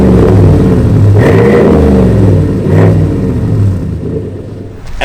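2020 Chevrolet Silverado 1500 with a custom dual-tip exhaust revving up and down twice, loud and close, the deep rumble rising and falling before settling toward idle.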